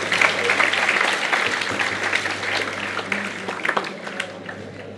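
Audience applause at a World Tourism Day ceremony honouring a guest on stage, a dense burst of clapping that starts loud and slowly thins and fades over several seconds.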